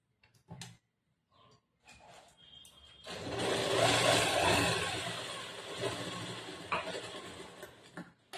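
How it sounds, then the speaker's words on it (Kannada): A sewing machine stitches a plain blouse seam, running in a sustained whirring burst of several seconds after a few short clicks and handling noises, then slowing with some knocks. "ಈ ಕಡೆ ಸೈಡ್ ಸ್ಟಿಚ್ ಮಾಡಬೇಕು"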